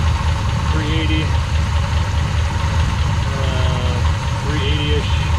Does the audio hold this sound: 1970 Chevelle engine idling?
yes